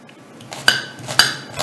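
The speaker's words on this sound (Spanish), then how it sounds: "Ahí vamos picando la manzana" A knife chopping an apple on a hard board gives three sharp, bright clicks spaced about half a second apart, close and crisp over a faint background hiss.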